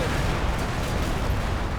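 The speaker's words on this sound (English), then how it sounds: "that's some pretty satisfying rocket artillery stuff into the towns there" Rocket artillery pounding towns in Combat Mission: Cold War, a dense, continuous roar of overlapping blasts rumbling loud and steady throughout, with no clear gaps between impacts.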